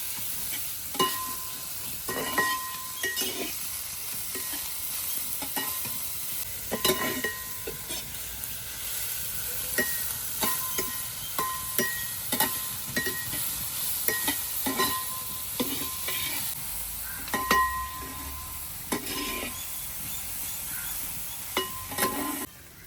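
Onions for a chicken curry fry in a pan under a continuous low sizzle, while repeated utensil scrapes and clinks mark regular stirring over about twenty seconds.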